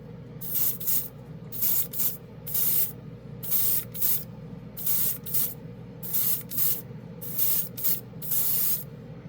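An airbrush with a 0.5 needle lays down a paint base coat in about nine short, close hissing bursts of spraying, evenly spaced and separated by brief pauses.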